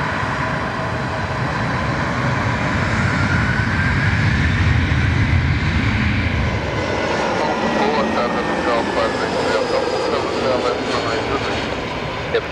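A passenger jet takes off at Lisbon airport, a loud, steady broadband engine roar that builds and holds for the whole stretch, with voices talking underneath.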